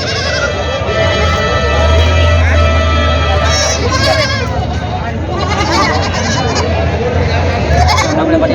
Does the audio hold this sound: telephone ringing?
no